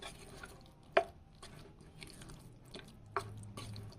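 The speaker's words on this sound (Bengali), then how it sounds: "ভালো করে চামচ দিয়ে এইভাবে মাখিয়ে নেব।" A spoon works thick vada batter made with greens and garam masala, giving faint, soft squelching and stirring sounds, punctuated by a couple of sharper clicks of the spoon against the bowl.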